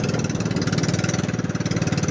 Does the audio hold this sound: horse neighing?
no